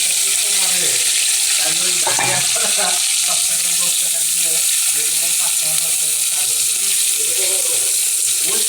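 Chopped onion and tomato sizzling loudly in a blackened wok just used for frying okra, a dense continuous hiss with stirring scrapes throughout.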